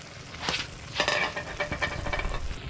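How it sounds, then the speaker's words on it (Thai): Pad kaprao, a Thai holy basil stir-fry, sizzles and crackles in a pan in a rustic home kitchen, with bursts of stirring and scraping against a steady frying hiss. "อันนี้ผัดกะเพราเนาะ"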